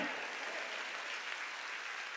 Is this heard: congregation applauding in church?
yes